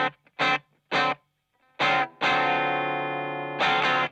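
Distorted electric guitar through a warm VOX UL730 tube amp on its normal channel: a few short chopped chords, then a long sustained ringing chord, followed by another quick stab.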